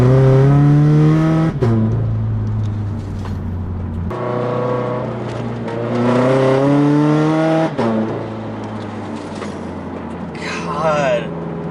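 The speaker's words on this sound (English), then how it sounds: "that great ass 3-inch exhaust that's completely straight piped, that just ruins everyone's day" A turbocharged Scion FR-S with a straight-piped 3-inch exhaust revs and pulls hard through several gear changes, loud and close from inside the car, with a driver talking over the raspy engine.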